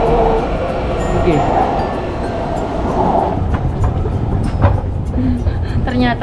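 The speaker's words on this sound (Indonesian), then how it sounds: "Ini kereta yang jalur biru, terus kemudian kita ganti yang warna hijau." Riding aboard a passenger train on a blue line, a steady rumbling carriage noise with rattles and occasional squeals, with people talking over it.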